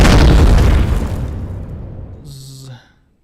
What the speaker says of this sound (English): a massive explosion.